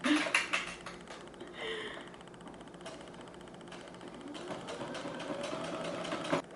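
A sewing machine stitching a skirt in a home sewing session, heard close with a mechanical whir and rattling clicks, pausing briefly before running again more steadily.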